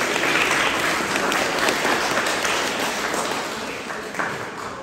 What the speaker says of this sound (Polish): Brawa dla niej jeszcze raz.